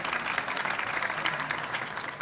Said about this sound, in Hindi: शायरी का आप खुल के तालियां बजा सकते हैं